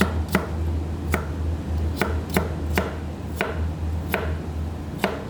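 Carrots chopped on a board for a traditional Saudi salad, about eight crisp knife strikes at an uneven pace over a steady low hum, close and clear with no talking.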